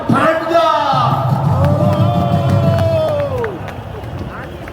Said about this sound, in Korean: 다시 큰 박수 한번 해주시기 바랍니다